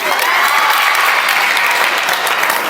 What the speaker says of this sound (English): Please support him with a huge round of clap